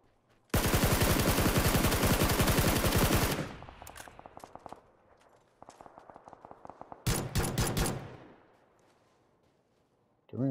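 Rapid automatic gunfire in PUBG, a dense burst of shots for about three seconds, then scattered single shots and a second short volley, loud and close.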